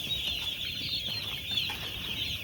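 Poultry in a shed with rice-husk litter cluck softly while feeding and drinking, a steady low chorus under a continuous high hiss.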